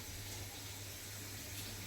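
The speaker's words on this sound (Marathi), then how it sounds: "तर आता ह्याच्यावर आपल्याला पाणी टाकायचे आहे" Water pouring onto mutton in a pot over a wood-fired stove, a steady continuous wash of liquid sound with no speech.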